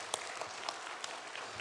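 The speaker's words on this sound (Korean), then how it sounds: "박수 한번 하자고." A church congregation at Sunday worship claps together, a fairly faint, continuous patter of many hands with a few sharper individual claps standing out.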